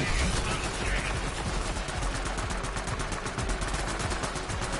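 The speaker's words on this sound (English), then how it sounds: "Who's shooting at us?" Rapid automatic gunfire from the video game Borderlands 3 rattles in dense, continuous bursts that fill the whole stretch.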